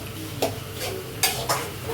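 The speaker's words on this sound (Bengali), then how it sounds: "কি হচ্ছে এদিকে? চাটনি হচ্ছে, চাটনি।" Chutney cooks in a pan, a soft bubbling sizzle broken by a few sharp scraping strokes of a spoon stirring it, close and with no talking.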